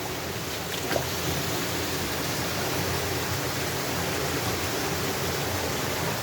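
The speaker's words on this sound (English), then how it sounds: "very amazing water coming from the mountain" Cold, clean water pours down a mountainside waterfall at a picnic spot in Duki, producing a steady, dense rushing roar, close and continuous, with no voices.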